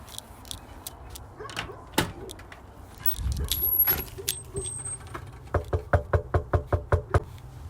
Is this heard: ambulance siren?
no